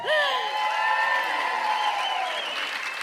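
Spectators at a professional pickleball match at the Atlanta Open cheer and applaud, with rising whoops and shouts riding over a continuous bed of clapping that stays lively and close before easing slightly toward the end.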